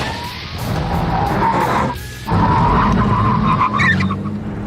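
Bugatti Veyron braking hard on carbon ceramic brakes from about 125 mph, a loud sustained tyre and brake squeal with engine and road roar, a brief dip midway before the noise swells again.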